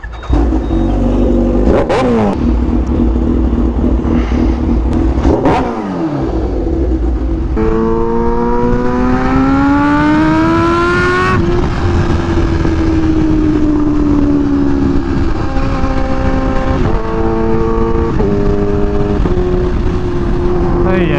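A Kawasaki Ninja H2 motorcycle being ridden, with a loud, steady engine note that rises and falls in pitch as the revs change, plus a few sharp bumps and knocks near the start.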